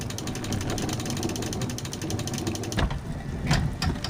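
A crank mechanism hoisting an elevator in the puzzle game House of Da Vinci, a steady ratcheting clatter of gears and pawl turning continuously, then slowing into a few heavier clunks and creaks near the end.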